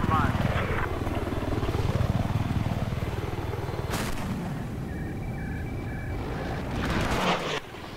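Scout helicopter in Battlefield 4, a close, pulsing rotor thrum with swelling whooshes and sharp gunfire bursts, under game radio tones and brief voices.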